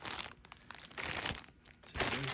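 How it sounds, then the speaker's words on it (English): Thin plastic bag crinkling while a greased Grizzly lathe replacement part, a tool rest, is unwrapped, in several close, busy bursts of rustle with brief lulls between. "In a nice plastic bag."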